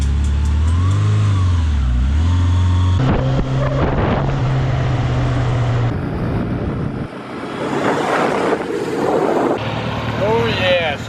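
An abandoned motorcycle, left sitting for over ten years, runs and revs up close, its engine note rising and falling with wind buffeting the microphone and a voice talking over it.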